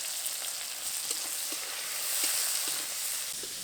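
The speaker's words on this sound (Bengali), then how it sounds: "এবার চিংড়িগুলোকে ভালো করে ভেজে নেব।" Shrimp frying in oil with salt and turmeric, a steady close sizzle with soft crackling pops spread evenly through, no voices.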